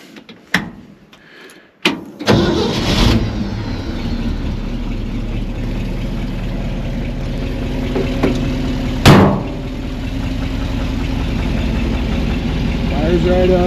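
A 1966 Ford F100 4x4 with an FE V8 cranks briefly, fires right up and settles into a steady, rumbling idle, the exhaust leak at the manifold adding a ticking rasp, with a sharp clunk partway through.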